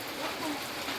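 Rain falls steadily in a short stretch of even, continuous hiss, with no single drops standing out.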